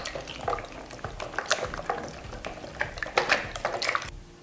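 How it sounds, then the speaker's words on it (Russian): Kefir mixed with a pinch of baking soda for yeast-free pirozhki dough fizzes and bubbles in a bowl, giving soft, irregular crackling pops and liquid ticks close up, with no voices. "наша жидкость начинает пузыриться и шипеть"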